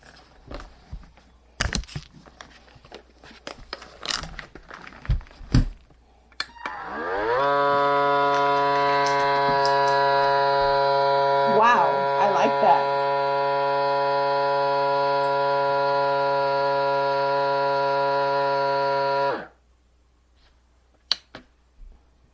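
Scattered clicks and taps, then an Ambiano vacuum sealer's motor starts, humming steadily and loudly for about twelve seconds before cutting off abruptly.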